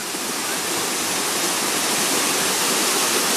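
The Bovska skaklya waterfall, heard from below, gives a loud, steady broadband roar of falling water with no talk, close and unchanging throughout.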